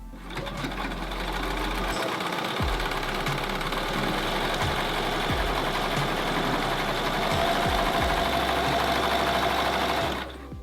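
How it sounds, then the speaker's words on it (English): Sewing machine running steadily as it stitches extra rows into a pair of pants, a close, continuous motorized whir with brief pauses and thumps from fabric handling. "I think I'm actually going to add 2 more rows of stitching"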